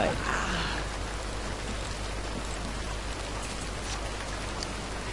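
Steady rain falls in The Sims 2 video game, a dense even hiss of drops on surfaces that holds at the same level throughout, with faint game sounds mixed in.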